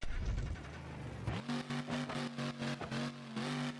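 A monster truck in BeamNG Drive cranks and fires up, then its engine idles with a steady low drone broken by a run of short, loud revs close by.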